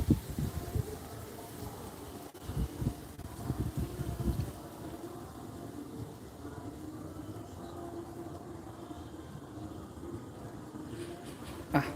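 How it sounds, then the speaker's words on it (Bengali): A cold northerly wind buffets outdoors in heavy low rumbling gusts for the first few seconds, then settles into a steady, quieter rush. "এত হাওয়া দিচ্ছে আজকে"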